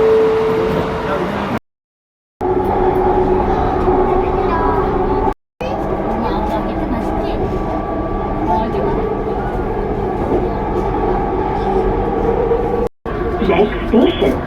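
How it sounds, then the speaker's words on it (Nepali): A metro train pulls into a station in Malaysia with a loud, sustained rumble and rising whine of rail wheels and motors, broken by brief gaps, while voices are heard. "ल हाम्रो चढ्ने ट्रेन आयो, यही हो हाम्रो ट्रेन।"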